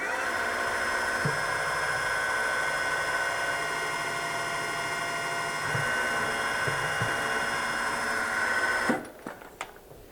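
Machine shop spindle drilling with a number 4 tap drill, a continuous whirring hum with high tonal whine and a few soft knocks, holding steady before winding down sharply near the end, followed by brief clatter.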